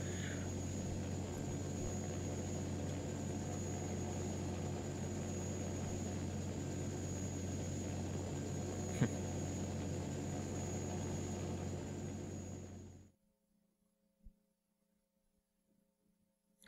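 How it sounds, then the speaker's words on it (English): A helicopter lands in the video game Parasite Eve, a steady loud droning engine hum that holds evenly for about thirteen seconds and then cuts off abruptly into near silence. "as they wait for the helicopter to land"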